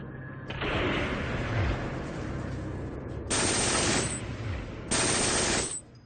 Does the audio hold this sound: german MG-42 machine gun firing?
yes